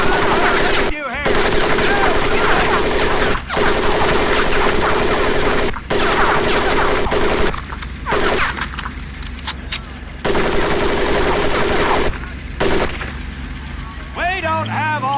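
Sustained bursts of machine gun fire rattle loudly over a boot camp training course in Medal of Honor: Pacific Assault, with brief gaps between volleys and shouted voices mixed in.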